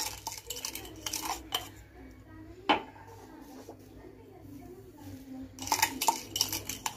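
Metal utensil scraping and clinking inside a pot as sugar is mixed into a red lentil and barley soup with herbs. Irregular clatters and knocks come up close, with a sharp clink partway through and busier stirring toward the end.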